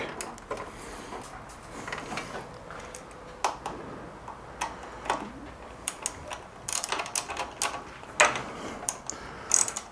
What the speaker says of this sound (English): I'm gonna take my ratchet and secure everything back to the proper torque.